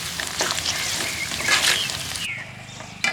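Jujube fruits frying lightly in a pan make a steady, close sizzle with faint crackles throughout, and near the end there is a brief stir.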